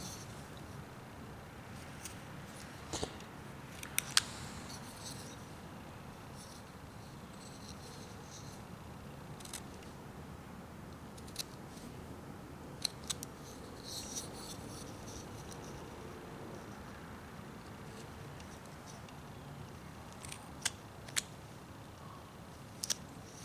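A knife whittles a small wooden figure of a Norwegian couple, shaving off the nose: faint, scratchy cuts and soft clicks scattered over a quiet background, with no talking.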